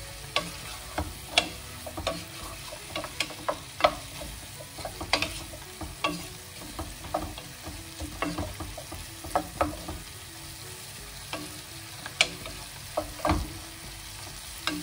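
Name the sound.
spices searing in a frying pan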